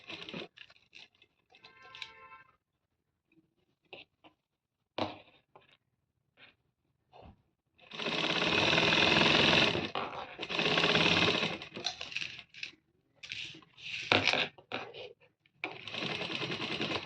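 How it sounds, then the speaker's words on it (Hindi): Sewing machine stitching a pocket onto fabric, starting with a few short isolated bursts and clicks, then longer loud runs of rapid stitching broken by brief pauses. "अब हमने सिलाई लगानी है बिल्कुल इस निशान के"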